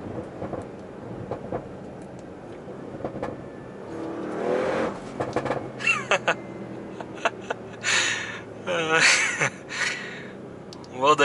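Audi RS6 Performance engine rumbling under a man's speech, with revving bursts and rising and falling engine sweeps building in the latter half.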